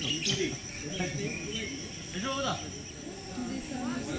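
Wild birds chirp and call in open Indian countryside with no houses nearby, with scattered short tweets over a busy natural background. A person talks over them.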